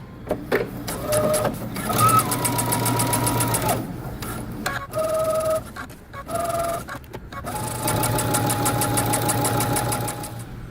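A sewing machine stitches a jeans seam allowance and underlap in fast rattling runs broken by short pauses and backstitching, close and steady, with a voice briefly talking between bursts.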